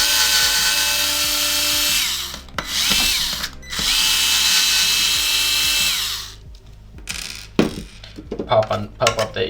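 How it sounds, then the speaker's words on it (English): A small electric screwdriver whirs in long sustained runs while unscrewing the front USB screws on an Xbox One X console, followed by brief clicks and clatter of parts close by. "I'm gonna unscrew these two screws that hold in the front USB."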